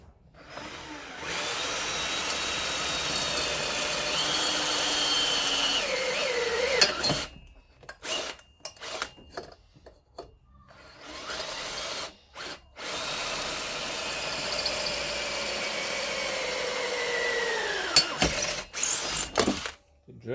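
A Makita power drill bores into a trailer hitch extension for a boat, its high whine running steadily and close for several seconds, then breaking into short bursts and pauses as the bit is worked.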